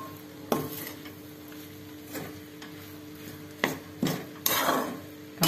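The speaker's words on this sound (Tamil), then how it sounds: "கொட்டி ஒரு வாட்டி நல்லா அப்படி கலரி கொடுக்கணும்" Grated coconut being stirred in oil in a pan over a low flame, with scattered clinks and scrapes of a spoon against metal, a few louder knocks near the end, and a faint sizzle beneath.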